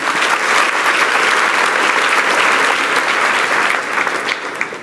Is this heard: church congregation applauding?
yes